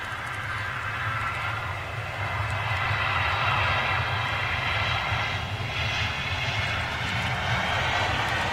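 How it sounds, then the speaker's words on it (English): An Air France airliner landing at Manchester International with clamshell thrust reversers deployed, a loud, steady engine roar with a broad rushing hiss that swells slightly midway and holds throughout, with no voices. "See the clamshell reversers."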